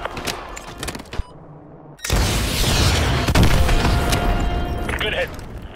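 AGM missile strikes in Modern Warfare 2 Remastered, a quiet stretch giving way to a sudden loud blast and sustained rumbling explosions that roll on for several seconds, with game voices and chatter mixed in.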